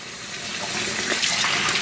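Water runs steadily from a tap into soapy detergent water in a sink. It makes a continuous close hiss and splash that builds slightly, with no talking.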